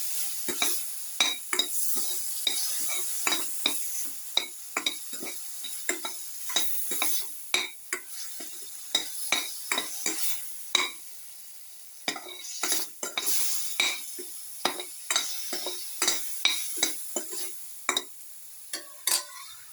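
Shrimp pasta sauce being stirred and sautéed in a pan, rapid irregular scraping and clinking of a utensil against the pan over a soft frying sizzle, close and without talk.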